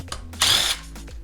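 A pneumatic impact wrench on an Audi B5 S4 fires one short, loud, close hammering rattle while a wheel is removed in a garage.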